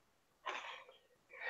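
A person sneezes into an open microphone during a live online session of a board wargame: a sharp, loud burst of breath noise, then a second rising sneeze-like rush at the end, with no talk.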